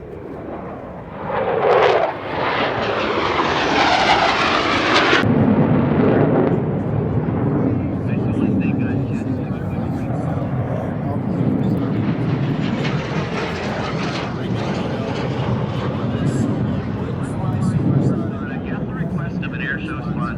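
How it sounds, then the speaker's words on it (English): An F-16 Fighting Falcon jet roars past at an airshow, a loud sweeping engine blast that swells, then gives way to a sustained rumbling roar as it flies on, with people talking over it. "F-16 Viper fighting Falcon."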